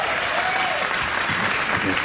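A studio audience at a late-night comedy show breaks into a short burst of loud, dense applause, with voices mixed in beneath it.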